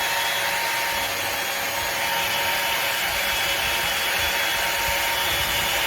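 A budget Dyson Airwrap-style hair styler runs on its heat setting, giving a loud, steady airflow whoosh with a constant motor whine throughout and no talk.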